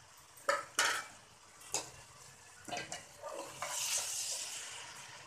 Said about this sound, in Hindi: और इन सब चीज़ों को मिक्स कर देंगे।